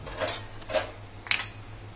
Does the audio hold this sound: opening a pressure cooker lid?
yes